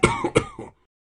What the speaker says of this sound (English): do not cough at me like that